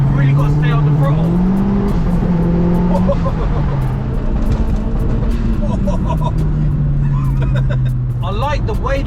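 Engine note of a 370bhp Mk1 Ford Focus RS heard from inside the car while driving, a loud continuous drone whose pitch climbs and falls as the throttle is worked, with someone talking over it.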